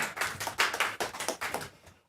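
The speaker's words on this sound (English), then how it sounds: "So, round of applause." A modest audience at a tech talk during a construction-industry hackathon claps for a presenter, a steady patter of hands that swells, then tapers and stops.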